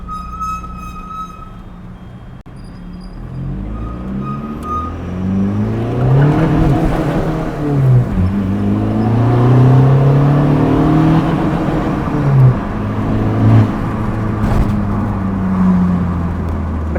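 A stage 3 Skoda Octavia making over 200 hp in Kerala revs hard, its exhaust note rising and falling through repeated loud, close pulls as the turbo spools up under acceleration.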